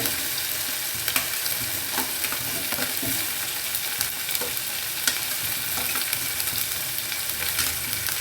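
Potatoes and carrots sautéing in a pan over lowered flame give a steady close sizzle with scraping stir strokes throughout, no talking.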